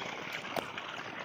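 A water pump motor runs in a summer onion field, giving a steady rushing wash of flowing water with a brief splash partway through, close and continuous.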